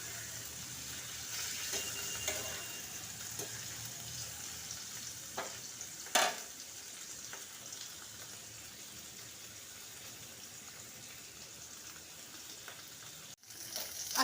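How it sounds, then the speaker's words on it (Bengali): Paneer cubes fry lightly in a pan for mango paneer, giving a faint, steady sizzle with a couple of brief clinks and stirring sounds and no talking. "দেখুন পনিরগুলো কি সুন্দর করে ভাজা হয়ে যাচ্ছে।"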